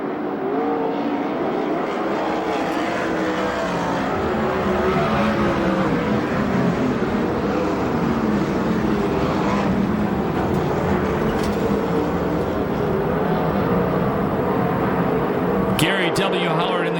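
USAC/CRA sprint cars and Western States midgets race at Perris, California, a continuous roar of engines rising and fading as cars pass, with a commentator talking over the racing throughout.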